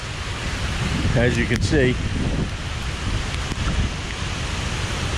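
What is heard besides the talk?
torrential rain and wind of Hurricane Nicole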